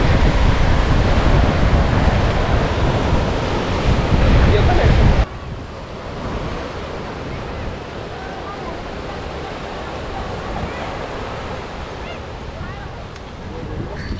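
Sea waves wash onto the shore at Gandhi Beach in Pondicherry on a morning visit, a constant loud roar of surf mixed with heavy wind buffeting, easing slightly partway through but continuing throughout.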